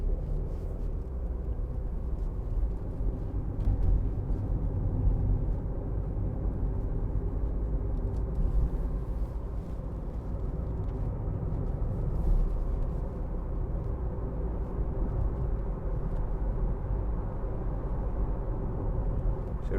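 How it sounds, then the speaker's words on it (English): A 2015 Audi A1 1.4 TFSI Sport S Tronic hatchback rounds a roundabout, its engine and road noise a steady low rumble heard from inside the cabin, continuous and even with no talking. "Now we'll just go around this roundabout, show you the handling."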